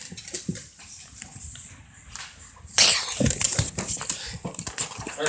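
A dog moves about indoors on a rainy day, with soft scuffs and faint whimpers early on, then louder close rustling and bursts of excited activity as a person talks to it.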